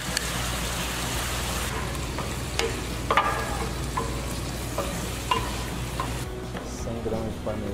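Pasta is stirred through a fresh cream sauce in a pan for a Pantanal-style comitiva dish, a continuous close sizzle with occasional spoon scrapes and clinks against the metal, no clear talking.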